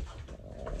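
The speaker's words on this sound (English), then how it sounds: "If you're wondering what that sound is, it's the puppy and Kennedy playing beside the couch." A poodle puppy playing beside a couch indoors gives short, faint whimpering yelps against a quiet room.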